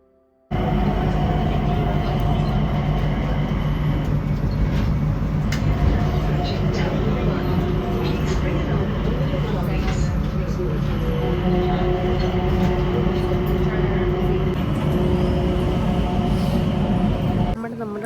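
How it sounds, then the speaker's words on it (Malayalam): An airport sky train rolls along with a steady, loud rumble and hum filling the car, muffled voices murmuring faintly beneath it. "അപ്പോൾ നമ്മൾ സ്കൈ ട്രെയിനിലാണ് പോകുന്നത്. Like A metro train"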